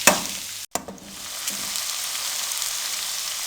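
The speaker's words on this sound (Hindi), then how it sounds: "अब मीडियम फ्लेम पे प्याज़ों और सब्ज़ मिर्चों को हम 3 से 4 मिनट के लिए फ्राई कर लेंगे" Onions and green chillies fry on a medium flame for baingan bharta, a steady close sizzle and hiss that briefly drops out, then resumes evenly.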